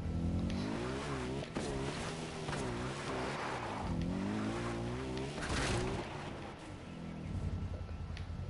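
Car engine from driving in the video game Far Cry 4, a steady loud revving drone with shifting pitch throughout, rising and falling as the vehicle accelerates, with no talk over it.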